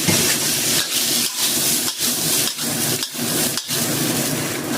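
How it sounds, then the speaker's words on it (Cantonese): Diced zucchini stir-fries in a hot oiled wok, a loud continuous hiss broken by regular tossing strokes roughly every half second to second. "燒熱個鑊啦，俾啲油落去啦，將啲脆肉瓜落去打一打先"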